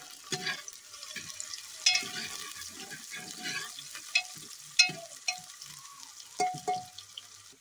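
Chicken pieces fry in oil, sizzling and crackling steadily in a pan, with occasional sharp pops and stirring clatters over the frying hiss.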